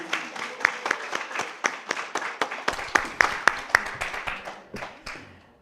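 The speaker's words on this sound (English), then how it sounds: "Let's give her a round of applause." Sparse applause from a small congregation at a Sunday spiritual service, a handful of distinct claps in an irregular patter that thins out toward the end.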